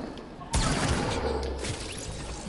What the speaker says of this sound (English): He had a hand cannon.